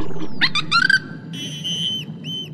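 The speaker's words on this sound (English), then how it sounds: "Never heard that whistle before" In a cartoon, an unfamiliar whistle rings out as a string of bright, warbling chirps, then a few longer sustained tones. It sounds near and clear against a quiet background.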